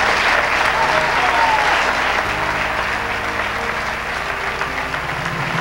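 A church congregation gives sustained, dense applause that fills the room at an even level, with a few voices mixed into the clapping.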